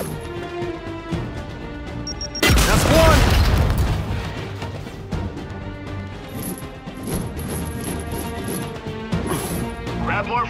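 Frag grenades going off in Gears 5: one heavy close blast with a broad rumbling burst, followed by continuous game noise and scattered impacts, with a voice talking throughout.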